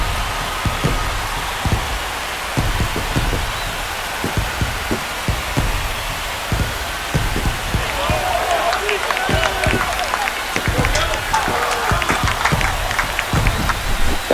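A baseball stadium crowd cheers after a home run in a Phillies vs. Guardians game, a dense, sustained roar of voices and clapping under a commentator's talk.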